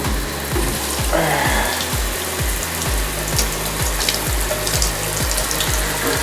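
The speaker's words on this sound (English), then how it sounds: "it's draining perfect" Water drains steadily from a freshly unclogged bathtub drain, a loud, close, continuous rushing and gurgling flow with regular pulsing throbs underneath, and no voices.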